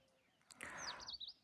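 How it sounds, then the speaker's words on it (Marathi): Birds chirp in a village morning, with a short burst of bright, close tweets and a few quick trilling calls over a quiet background. "पक्ष्यांचा किलबिलाट"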